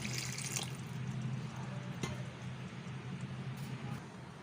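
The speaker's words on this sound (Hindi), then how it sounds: "तो व्यूअर्स अब हम इसमें पानी ऐड कर रहे हैं।" Water poured into a pot of beef kofta biryani as it cooks, a steady rushing splash with faint drips and a few clinks, loud and close throughout, with no talking.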